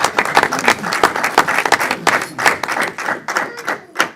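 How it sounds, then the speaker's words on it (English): Applause at a council meeting comes from a smaller group. The claps are distinct and close, uneven and bursty, with a few voices mixed in. "I want to give them a round of applause."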